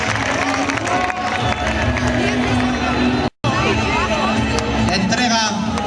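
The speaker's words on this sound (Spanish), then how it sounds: "Fuerte el aplauso para Alejandro, tercer clasificado" A large outdoor crowd applauds and cheers at a recortadores bull-dodging contest in Orozco, Bizkaia, with steady dense clapping and babble throughout and a short dropout in the middle.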